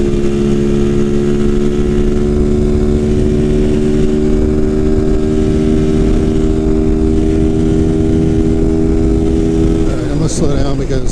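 Motorcycle engine on a highway test ride with a beta tune, a steady loud mid-pitched drone holding constant throttle for about ten seconds before the note shifts and eases near the end, with wind rush throughout.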